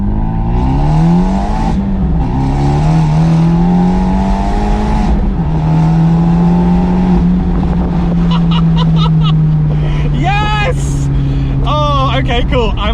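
A remapped Abarth 124 Spider with a Sport Cat exhaust valve idles in a steady, loud, low droning burble that holds throughout, with some brief higher chirps near the end.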